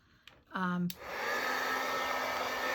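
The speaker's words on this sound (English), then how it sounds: "I'm going to turn on my little dryer thing just a little bit." A small handheld craft heat dryer starts with a brief rising whir and settles into a steady close airy blowing hiss, used on synthetic laces.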